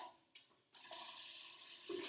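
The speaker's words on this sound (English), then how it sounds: "this one I'm going to fill with just common tap water" Common tap water runs from a faucet into a glass, a steady rushing pour that starts abruptly after a brief click and keeps going close by.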